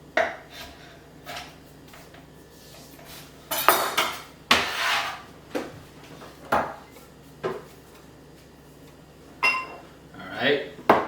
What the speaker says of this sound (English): I'm just going to cut this into some real thin slices for julienne.